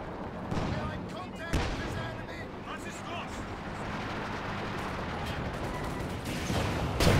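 Artillery barrage from Scott guns in the Company of Heroes 2 strategy game, a steady rumble of repeated booms and distant gunfire, with a sharp nearer blast partway through and a heavier thud at the end.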